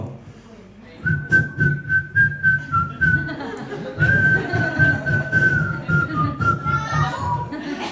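A man whistles a song while trying to pee in a public restroom, a clear melodic tune over a steady rhythmic backing, with a pause partway through and faint laughter underneath.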